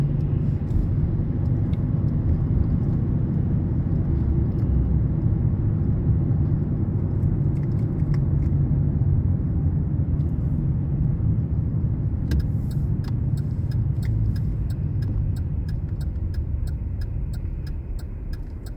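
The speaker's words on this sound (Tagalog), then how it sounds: "Medyo traffic dito guys." Steady low rumble of street traffic with cars passing, loud and continuous throughout, with faint ticking sounds near the end and no talk.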